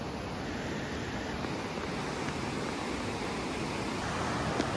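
Water flowing across the veined rock of an ancient volcanic site, the remains of the prehistoric Mount Sunda eruption at Sanghyang Kenit near Rajamandala, Bandung, a steady close rushing wash that stays even and continuous throughout with no voices.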